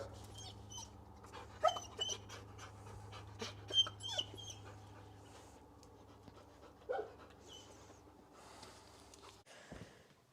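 Labrador dogs pant steadily nearby outdoors, with occasional snorts, sniffs and small whimpers over a low background hum, fairly quiet overall with a few louder bursts.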